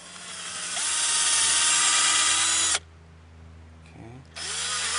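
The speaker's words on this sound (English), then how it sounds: "We can see we want to drill in to the point that we've gone into the cambium" A power drill whirs loudly as it bores into a tree trunk, running steadily for a couple of seconds, stopping briefly with a faint click, then spinning up again.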